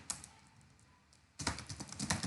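Typing on a computer keyboard: a few sparse clicks, then a quick dense burst of keystrokes close up, clear and without talk.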